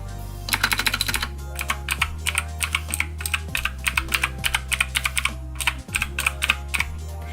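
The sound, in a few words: mechanical keyboard keys clacking while typing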